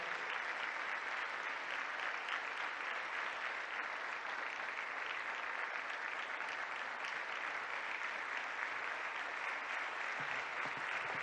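An audience gives a long, steady ovation for President Tshisekedi at a speech event: thick, continuous clapping from a large crowd, fairly distant and even in level, with faint crowd murmur beneath.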